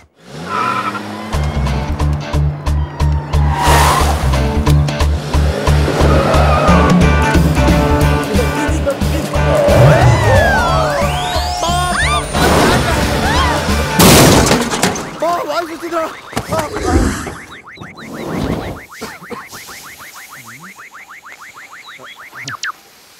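A car skids with squealing tyres and then crashes, with clattering impacts and scraping metal from damage, all loud and close, followed by quieter debris rattles near the end.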